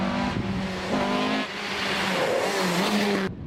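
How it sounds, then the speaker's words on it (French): A Ford Escort MK2 Group 4 rally car engine roars nearby with rough, revving tones, and gear shifts and pitch changes carry on for about three seconds before the sound cuts off abruptly. "reprendre le volant de cet autre Ford Escort MK2 Groupe 4 avec le Belge André Lay à sa droite."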